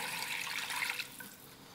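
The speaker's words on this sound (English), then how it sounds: "And there's a 2nd glass of water." A glass of water pours into a pot of basmati rice with peas, a short steady splashing rush that tapers off after about a second.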